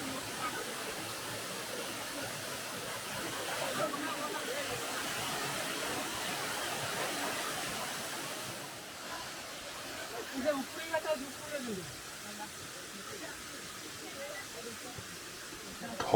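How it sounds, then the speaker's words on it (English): Sitakund waterfall in Odisha rushes in a steady broadband hiss of falling water, constant and fairly soft, with a person talking over it. "Soothing sound of the waterfall, the lush green surrounding"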